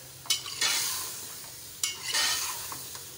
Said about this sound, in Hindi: अब मैं भून रही हूँ चिकन को, लहसुन प्याजों में भून रही हूँ